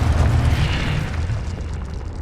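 A loud, booming blast from the Confringo fire spell in the Hogwarts Legacy video game rumbles heavily and fades over about two seconds.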